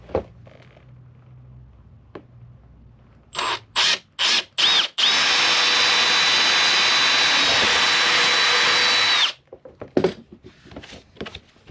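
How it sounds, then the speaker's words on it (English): Power drill boring clip holes on a KTM 1290 Super Adventure motorcycle, a few short whining bursts followed by a long steady high-pitched run, loud and close, then clatter. "Two clips drilled and in place, ready for the brake lines."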